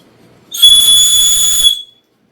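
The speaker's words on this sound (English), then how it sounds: "It is harder to blow than the other whistle that I printed" A single shrill, high-pitched blast from a 3D-printed whistle lasts just over a second, loud and close, then cuts off into silence.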